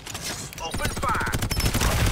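Rapid automatic gunfire in the video game Farlight 84 rattles off in loud, tightly spaced bursts that grow denser toward the end, with a voice heard briefly over the shooting.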